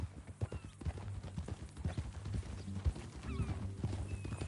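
Horse hooves in the video game Red Dead Redemption clip-clop in a steady walking rhythm, close and moderately loud, with a faint creak of tack alongside.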